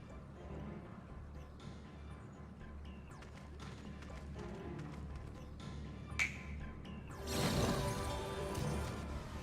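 Hooves clip-clop in a quick, steady rhythm as a horse trots in Final Fantasy XIV, with a louder crashing burst near the end and no talking.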